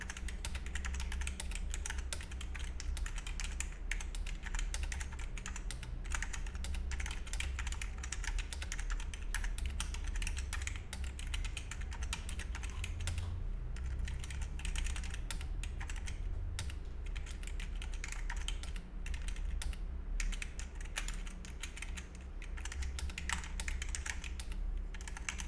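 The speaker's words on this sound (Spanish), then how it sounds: "A continuación los dejo con el test de sonido." Continuous typing on a Trust Gaming GXT 833 Thado budget gaming keyboard, a steady dense stream of close keystrokes with no pauses or voices throughout.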